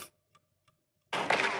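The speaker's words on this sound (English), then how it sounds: "Time ticking." Two faint, evenly spaced clock ticks sound in a quiet gap within a song, then loud music crashes back in.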